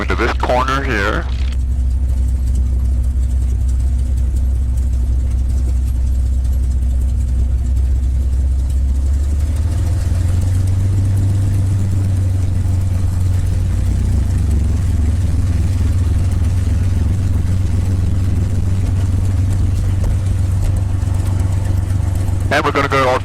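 A North American P-51 Mustang's piston engine idling as the aircraft taxis, a loud, steady low rumble close by that deepens slightly midway, with a voice talking over it throughout.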